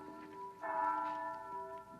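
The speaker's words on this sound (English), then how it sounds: "That's the bell at St. Boniface, isn't it?" A church bell at St. Boniface rings once with a sustained, resonant tone that swells and slowly fades over about two seconds, heard fairly clearly against a quiet indoor background.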